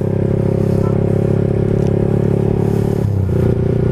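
A racing motorcycle, an R150 in a race, runs loud and close with a steady droning engine tone that dips briefly near the end before resuming, alone without speech.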